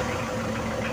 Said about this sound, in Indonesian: ini saya mau coba hidupkan mesin ya